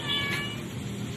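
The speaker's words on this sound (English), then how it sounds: "Pusa." A large cat gives a single drawn-out meow, faint and fairly close against a low background rumble.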